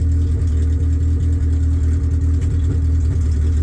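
K-swapped hatchback's engine running close by, a loud, deep, steady rumble with a throbbing low idle pulse that holds throughout and has no voices over it.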